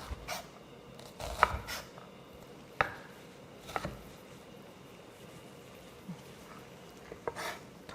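Tomatoes being diced with a knife on a cutting board: a handful of sharp, close chopping taps at irregular intervals over a quiet room, with no talk.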